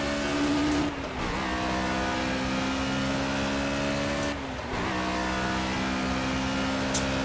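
A car engine in Project CARS racing gameplay revs hard and climbs in pitch, dropping sharply twice during gear shifts before winding back up, loud and continuous with no talking.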